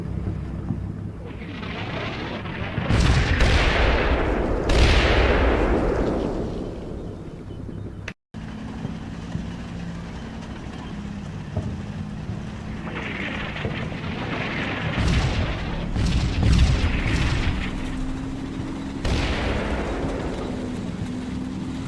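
Artillery shells land in Combat Mission, a World War II strategy game, as several loud, rumbling explosions. Two bursts come early, then a cluster arrives later over a steady low engine-like drone.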